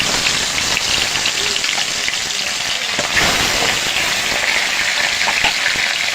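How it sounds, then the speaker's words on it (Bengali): Turmeric-and-salt-coated mrigal fish fry in hot oil in a kadai wok, giving a steady, dense sizzle and crackle that stays loud and even throughout with no talking. "মাছগুলো এবার ভেজে নেব।"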